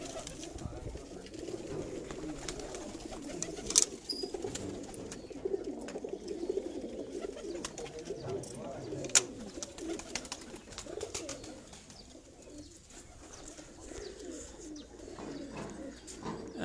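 Pigeons on a rooftop coo in repeated low, soft throbbing calls that continue across the whole stretch, with faint background noise and a few sharp clicks.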